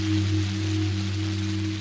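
Steady rain pours in an animated cartoon scene, a constant dense hiss with a low hum beneath, unbroken and fairly loud, no voices.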